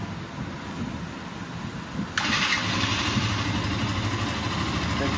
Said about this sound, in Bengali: এখন দেখাবো হচ্ছে বাইকটির সাউন্ড কন্ডিশন।